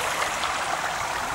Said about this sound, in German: Hier ist ein Wasserfall.